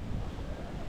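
Strong wind roars in a dense, steady rush, buffeting the microphone with constant low rumble.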